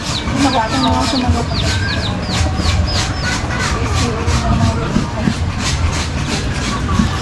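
Fighting roosters cluck and chirp repeatedly over a steady, busy background of farmyard noise and low murmuring voices.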